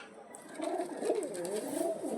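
Domestic pigeons coo close by in soft, throaty, repeated calls that overlap one another.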